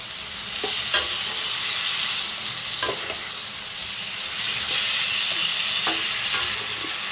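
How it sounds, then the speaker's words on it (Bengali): Snake gourd (chichinga) frying in a pan while being stirred, a steady broadband sizzle with scraping strokes of the spoon at irregular intervals, close and fairly loud, no voices. "এরপরে চিচিঙ্গাগুলো দিয়ে দেবো, দিয়ে ভালোভাবে নেড়ে নেবো"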